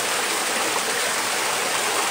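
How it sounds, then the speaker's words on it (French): An underground river rushing beneath a factory, a steady loud broadband wash of flowing water, close and continuous without any voices. "toute la rivière souterraine qui passe en dessous de l'usine"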